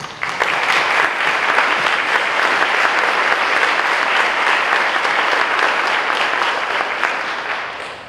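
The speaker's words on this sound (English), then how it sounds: "another round of applause for our honorees who really helped save Laredo." Audience applause fills an awards ceremony honoring community leaders at Laredo College, a steady, dense clapping that holds for about seven seconds before beginning to taper, with no talking over it.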